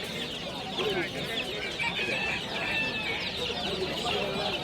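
Chickens clucking at a busy rooster and poultry market in Kara Kamish, a continuous chorus of close chirps and clucks over a dense background murmur.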